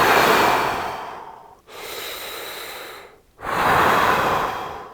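Slow, deep breaths drawn in and let out, long airy inhale and exhale strokes one after another with brief pauses between, close and loud, no talking.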